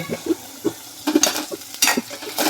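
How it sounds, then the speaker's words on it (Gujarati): Tindora and potato curry cooking in a pan, with a soft sizzle under repeated spoon stirs and scrapes, a few sharper metallic clinks of utensil against pan, close by. "અહીંયા આપણું જો ટીંડોરા બટેકાનું શાક મસ્તીનું ચડે છે"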